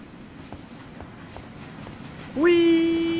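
An in-game tram in the Mafia video game approaches over a low rumbling background, then a loud, steady tonal horn-like blare kicks in near the end and holds.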